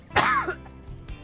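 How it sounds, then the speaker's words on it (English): One short, close throat-clearing cough from a man with a respiratory illness, a quick rough burst that fades into quiet room noise. "I had a little bit of a cough there"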